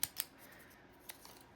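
Scissors snip through scraps of paper strip in two quick close cuts, followed by a fainter snip, with no one talking.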